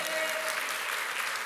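A church congregation claps together in a steady, dense wash of applause, loud and continuous throughout.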